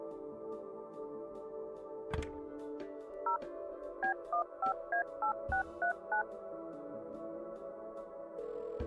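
In the 90s-inspired indie mystery game Kathy Rain 2, a telephone keypad beeps through about ten quick dialing tones in an even rhythm over a quiet background hum, with a click before them.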